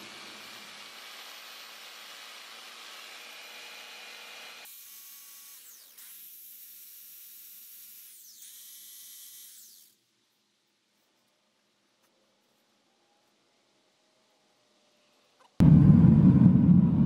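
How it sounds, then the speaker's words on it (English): A small jigsaw held against a sand mould for lost foam casting gives off a steady, faint buzzing hum for several seconds before cutting out. A quiet gap follows, then a sudden loud burst closes the clip. "I'm going to use a little jigsaw. Try and get some vibration in there to push the sand into the small voids."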